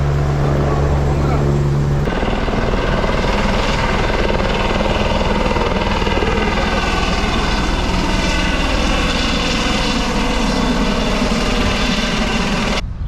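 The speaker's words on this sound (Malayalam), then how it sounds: "ഹെലികോപ്റ്റർ പൊങ്ങാൻ പോകട്ടാ" A helicopter engine roars loudly and steadily at Palm Jumeirah, Dubai, its pitch building as the rotor spins up for takeoff, with a chopping drone throughout and people talking faintly underneath.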